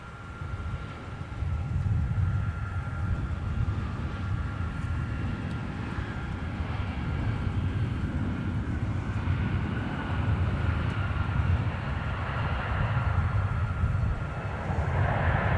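A United airliner jet at Minneapolis–St. Paul Airport produces a steady, moderately distant engine roar that holds evenly throughout with no talking.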